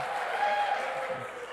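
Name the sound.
audience cheering and applauding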